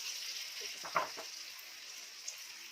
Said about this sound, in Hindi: अब इस स्टेज पे इसमें मैं चिकन ऐड करूँगी।